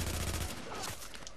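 Gunfire from the video game The Division during a Dark Zone run, including a headshot kill: a dense, loud burst of shots that rings out over the first moment, then fades into a busier, fainter wash of game sound.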